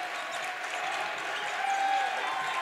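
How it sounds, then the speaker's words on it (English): A crowd at a boys' high school basketball playoff game, River Falls against Onalaska, cheers and applauds in a steady, dense roar of noise that swells slightly near the end. "Crowd comes alive."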